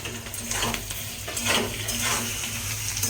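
Chopped tomato, capsicum and other vegetables with a little salt sizzling in a frying pan for chilli chicken, with close, loud frying hiss and the scrape and clink of a spatula stirring against the pan.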